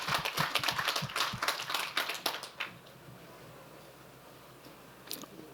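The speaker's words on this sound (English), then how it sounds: "I think we need a clap for that." A small audience at an event on Indigenous women in institutions claps in a soft, scattered patter for about two and a half seconds, then stops, leaving a quiet room.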